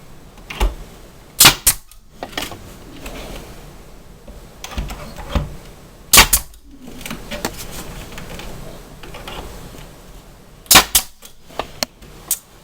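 Nails are driven into molding against a wall at a middle stud, heard as sharp, close, percussive bangs in scattered bursts over a quiet room background.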